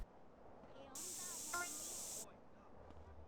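A single steady hiss of spray paint from a can tagging a wall in the video game GTA San Andreas lasts just over a second, loud and close against a quiet background.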